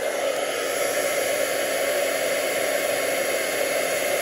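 A heat tool runs with a steady, loud blowing whir, melting gold embossing powder over Versamark ink on soft suede cardstock, a constant airy hiss with no pauses and no voices.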